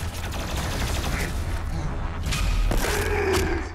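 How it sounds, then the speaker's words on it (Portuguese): Enemies fire from afar in Doom Eternal: sustained rattling shots and muffled thuds sit steadily under a low rumbling game mix, with a couple of sharper impacts near the end. "Verme me atirando de longe"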